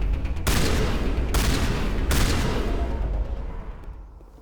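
Shotgun blasts in the Mass Effect video game: three loud, booming shots at roughly even intervals, each with a long echoing tail that fades out at the end, with no one speaking over them.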